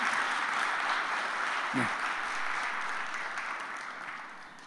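Congregation applause in a church chapel service, a steady broadband patter of many hands sustained throughout and slowly fading toward the end, with a brief voice near the start.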